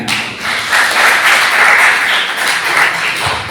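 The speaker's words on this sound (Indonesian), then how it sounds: "Tepuk tangan buat Mbak Bening ya." A classroom audience claps steadily for a student during a lesson, a dense wash of many hands that stays loud and even for about three and a half seconds, with no speech over it.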